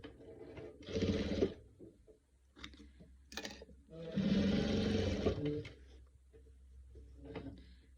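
A sewing machine stitches patchwork quilt pieces in short bursts, its needle clattering rapidly up close between pauses, with soft handling noises and someone talking quietly in between.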